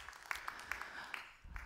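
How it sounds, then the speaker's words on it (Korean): A church congregation applauding after a Genesis sermon evening service, light scattered clapping that sounds somewhat distant and fairly faint, with a low rumble near the end and no talk. "박수 한번 해주셔요"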